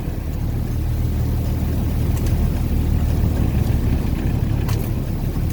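A squid fishing boat motors past close by at sea, its engine a loud, steady low rumble mixed with water wash that holds throughout without talking.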